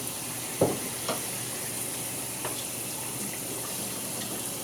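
Shower water runs in a steady hiss while a person is rinsed off, with a few faint knocks and splashes; no one speaks.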